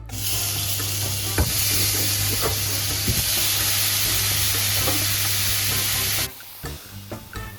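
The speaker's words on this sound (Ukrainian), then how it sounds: "Я смажу кавуни" Watermelon sizzles steadily in a hot pan, a loud continuous hiss with occasional stirring clicks, until the frying noise suddenly cuts off near the end.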